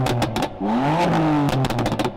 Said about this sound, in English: the owner of that car has fitted a thing to make it pop and bang